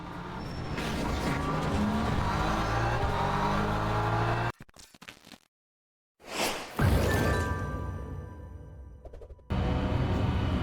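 A BMW race car in Le Mans Ultimate revs hard and loud around a track, the roar cutting out briefly mid-way before surging back with engine noise and a faint tire squeal.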